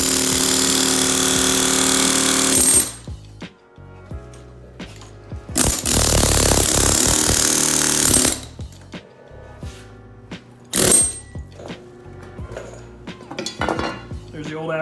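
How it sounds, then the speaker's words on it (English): A Snap-on pneumatic air hammer rattles loudly in a few long, harsh bursts while removing a golf cart axle, separated by pauses filled with metallic clinks and quieter shop noise. "we like the snap-on air hammer"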